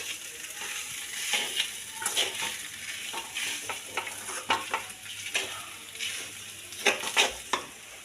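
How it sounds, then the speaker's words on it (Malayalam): Kozhukatta pieces stirred in fried seasoning in a pan, soft irregular scraping and light clinks over a faint steady sizzle, quiet and close. "എല്ലാ ഈ ചെറിയ ചെറിയ പീസിലും ഈ വറവ് പിടിക്കുന്ന രീതിയിൽ ഇളക്കണം"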